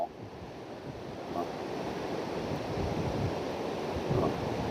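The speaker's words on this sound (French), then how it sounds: "Regarde les vagues. Avec les vagues qui tapent dans." Ocean waves surge against the seaside Hassan II Mosque in Casablanca, a steady distant wash of surf with light wind noise, fairly quiet and with no speech over it.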